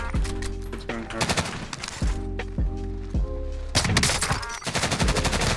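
Gunshots in Call of Duty Warzone on Rebirth Island, a handful of sharp, loud reports spaced apart with a sniper rifle among them, over game music and a faint voice.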